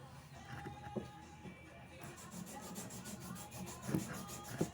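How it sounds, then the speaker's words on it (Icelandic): A ring made from a coin being sanded by hand, a quiet repetitive rubbing and scraping in short rhythmic strokes, close up with faint background noise. "Svo þarf að pússa hann allan"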